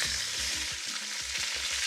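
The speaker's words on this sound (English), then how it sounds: "we're just going to sear off the meat. This is shin beef." Shin beef searing in olive oil in a hot pan: a loud, dense, continuous sizzle heard close up, with a faint rhythmic low thumping underneath and no speech.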